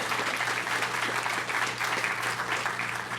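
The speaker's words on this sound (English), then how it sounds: "please help me give a big round of applause to our community service department" Steady applause from a large audience at a City of Fremont 60th anniversary celebration, honoring the community service department; dense, continuous clapping throughout with no pauses.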